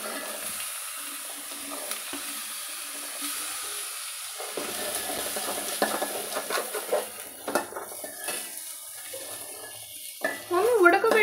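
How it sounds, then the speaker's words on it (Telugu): Beans tipped into a frying tomato mixture in a pan for a Nellore-style bean pappu curry, then stirred: scattered clinks, scrapes and light sizzling clatter, close up, growing busier toward the end. "ఇప్పుడు బీన్స్ పోస్తుంది."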